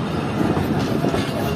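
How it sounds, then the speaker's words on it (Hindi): Mohenjo Daro Express train pulling out of Gopang railway station, heard from on board as a steady, loud rumble of wheels and carriages with faint clattering. "अब ट्रेन 20 मिनट रुकने के बाद निकल रही है गोपांग रेलवे स्टेशन से।"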